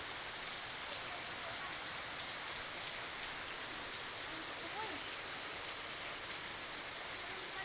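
Heavy rain pours beside a house under a very dark sky, a dense, steady hiss of drops drumming on surfaces that holds at an even level throughout.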